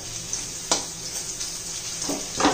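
Diced potatoes fry in oil for sabudana khichdi, a faint steady sizzle broken by a few sharp spatula scrapes and stirs against the pan.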